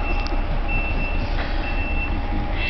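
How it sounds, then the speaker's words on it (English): Steady reversing beeps from rescue vehicles sound over rumbling truck engines nearby, repeating at an even pace with traffic noise underneath. "Notice the sounds of the beeping rescue vehicles."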